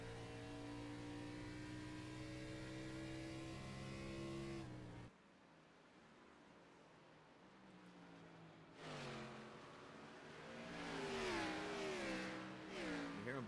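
Xfinity Series race cars at Phoenix in a racing video game, engines droning loudly, then downshifting into third through the corners. A steady roar cuts out, then returns with rising and falling revs as the cars pass.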